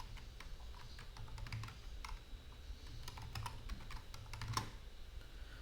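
A password is tapped out on a computer keyboard while setting up Windows Server 2022 in VirtualBox: quiet, close keystrokes in an uneven rhythm, ending with a firmer press, with no voices.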